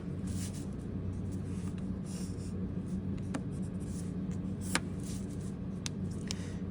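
A pencil draws lines along a ruler across paper for a background: continuous close scratchy scraping with a few sharp ticks as strokes start and end, no talking.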